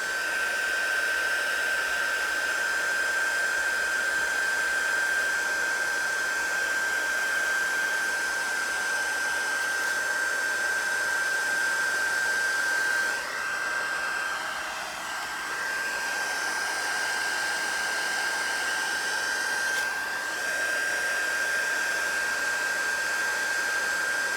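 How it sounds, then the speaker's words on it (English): A handheld heat gun blows hot air in a steady, loud whooshing roar with a thin whine on top, running continuously close to the microphone and dipping slightly midway. "So I'm gonna use my heat gun, guys."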